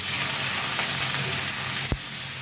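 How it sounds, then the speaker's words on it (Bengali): Onion and garlic fry in oil in a kadai with a dense, steady, close sizzle and one sharp clink near the end. "এখন পেঁয়াজ রসুনটা একটু ভালো করে ভেজে নিচ্ছি"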